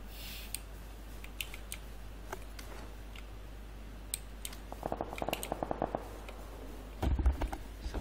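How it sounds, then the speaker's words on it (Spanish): Distant gunshots in the video game Sniper Elite: scattered faint cracks and pops over a quiet low hum, thickening into a quick cluster of shots and one louder burst near the end. "Se escucha disparos acá"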